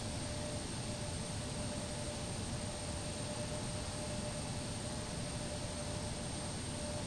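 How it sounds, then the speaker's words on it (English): An Embraer E175 jet taxiing in, simulated in X-Plane 12, gives a steady, even engine roar with a thin whine running through it, unchanging from start to finish. "Just go ahead and roll the aircraft in"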